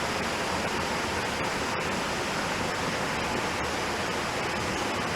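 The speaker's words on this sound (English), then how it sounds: "Listen to those waterfalls. Isn't that awesome?" Waterfalls pour down beside an abandoned seven-mile aqueduct below a highway, a steady, dense rushing roar that holds evenly throughout without pause.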